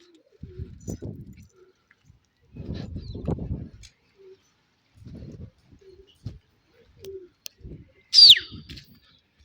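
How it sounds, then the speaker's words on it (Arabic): Pigeons coo in soft, low, intermittent phrases close by, separated by silent gaps, with a single sharp chirp near the end. "هي الحمامات"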